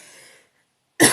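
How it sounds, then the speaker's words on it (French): A single short cough or throat clearing close to the microphone during a French-language presentation, preceded by a faint trailing murmur and a brief silence. "Je vais pas tousser dans le micro quand même."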